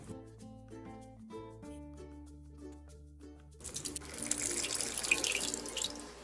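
Chilled tender coconut water pours from a coconut with its top cut off into a bowl. A clear trickling splash starts partway through and runs on steadily after several seconds of background music.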